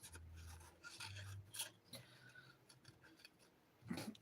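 Scissors snip in a few short, quiet cuts spaced across a few seconds, close and alone with no talk.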